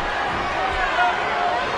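A wrestling crowd at an AMPRO Wrestling event cheers and applauds in appreciation after a suplex, a steady broad roar of voices and clapping that holds evenly throughout.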